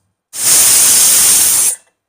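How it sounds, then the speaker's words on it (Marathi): A pressure cooker whistle on a gas stove releases one loud, steady hiss of steam that lasts about a second and a half, starts and stops abruptly, and plays alone. "1 शिटी झाली, गॅस बंद केला"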